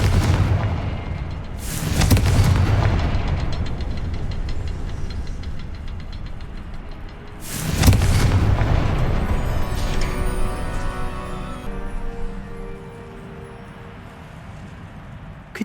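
Two heavy booming blasts of the Confringo spell in a video game, about six seconds apart, each a loud broadband burst trailing into rumbling debris and a fading tail.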